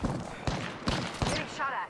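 Gunfire in the video game Apex Legends: four evenly spaced sharp shots about half a second apart, each with a short ringing tail, followed by a fainter warbling effect.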